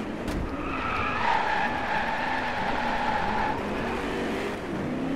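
A car drifting in the racing game Driveclub, its tyres skidding and squealing in a sustained high screech over a steady engine roar, loud and continuous throughout.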